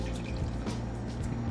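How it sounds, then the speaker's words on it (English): A cup of water is poured into a bowl of batter mix for sweet and sour chicken, giving a short, steady splashing trickle at close range with no talking. "I have in here 1 cup of water, so I'll just pour that in here now."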